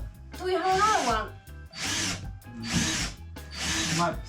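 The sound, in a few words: power drill drilling with cheap drill bits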